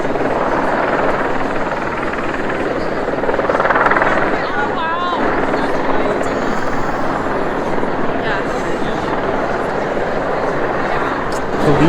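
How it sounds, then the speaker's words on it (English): Police helicopters fly overhead above a crowd at a royal coronation event in Scotland, a steady loud rotor drone filling the whole stretch with faint crowd murmur beneath. "Choppers overhead."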